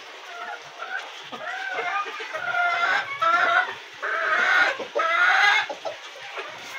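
Chickens clucking and cackling close by in a rooftop coop, rising in a series of loud, excited bursts with short pauses between them, a rooster-like call among them.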